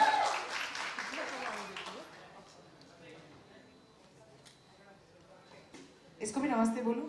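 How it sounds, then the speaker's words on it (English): A crowd applauding at a book launch event, clapping strongest at the start and fading under voices, then a brief louder burst of sound near the end with people talking. "Come on, round of applause,"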